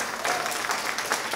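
A summit audience applauds panelists after a cannabis marketing session, dense continuous clapping from a crowd, fairly loud and steady, with no speech over it.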